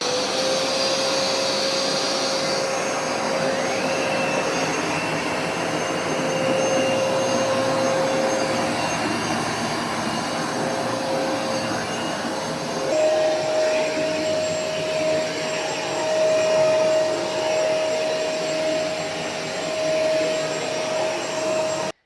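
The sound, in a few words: Vax Platinum SmartWash carpet washer running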